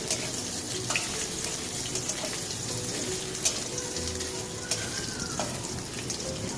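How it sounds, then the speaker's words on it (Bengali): Homemade paneer fries lightly in a pan with a steady, soft sizzle broken by scattered small pops and crackles; no one speaks. "অল্প করে ভেজে নিই, একদম হালকা করে ভাজবো, বেশি ভাজবো না।"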